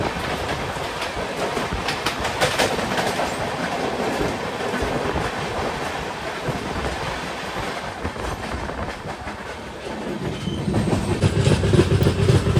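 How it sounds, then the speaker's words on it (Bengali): The New Jalpaiguri–Howrah Shatabdi Express crossing past the Shantiniketan Express on the line near Guskara, a steady close rumble and clatter of wheels that grows heavier and louder toward the end. "আমাদের সাথে ক্রসিং হবে নিউ জলপাইগুড়ি হাওড়া শতাব্দী এক্সপ্রেস।"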